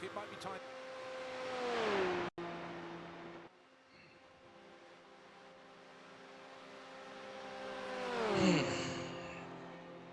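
A Porsche GT3 race car engine in the iRacing sim swells and pulls through gear changes, dropping away in the middle before building again to a loud peak near the end, with a voice talking over it.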